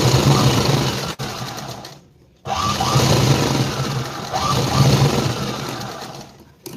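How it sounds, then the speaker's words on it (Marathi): A sewing machine stitching fabric runs in a steady, loud mechanical whir with a fast rhythmic chatter, stopping briefly twice before starting up again at close range. "छान पद्धतीनं शिलाई मारून घेऊ डायरेक्ट शेवटची"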